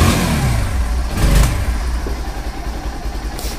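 A Bajaj Pulsar NS 160 motorcycle, just serviced with a carburetor and air filter cleaning, starts up and revs in a loud surge before settling into a rough, steady idle close by.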